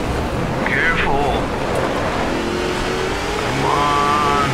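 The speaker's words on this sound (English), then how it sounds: "Don't rev the engine." A car engine revs in BAJA Edge of Control, a steady throaty drone rising and falling under someone talking, with a brief whine in between.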